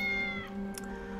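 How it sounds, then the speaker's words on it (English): A cat meows in the Tales of the Neon Sea video game, a single clear meow standing out over steady game music with sustained tones. "Meow!"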